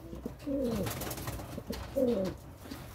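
A crossbred sport pigeon coos twice in soft, throaty phrases, close by and fairly quiet, over faint background noise.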